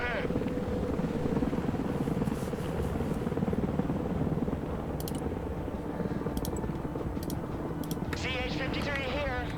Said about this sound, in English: Alright, we got a Chinook, we can do that.